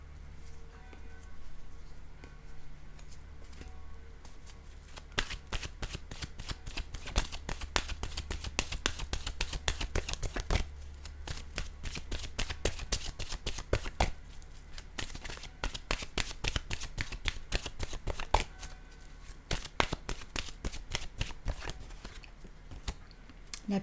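Oracle cards shuffled by hand before a single draw, a soft start giving way to long runs of rapid, dense papery flicks and slaps, close and even in level, with no voices.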